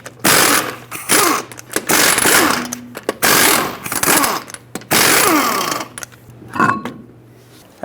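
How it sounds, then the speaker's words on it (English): Impact or power socket wrench with a 21mm socket whirs and rattles in repeated loud bursts, separated by brief pauses, while the lug nuts come off the rear wheel of a Hyundai Accent. "With a 21mm socket, remove all 4 lug nuts and then remove the wheel."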